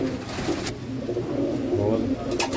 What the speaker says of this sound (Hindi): वाइट गोल्ड कबूतर